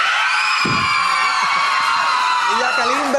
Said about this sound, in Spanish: William Levy, el galán que causa gritos histéricos entre...